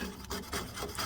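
Scraping an old clutch gasket off a motorcycle engine case, a steady dry rasping scrape repeated in short strokes, close and fairly loud with no talk.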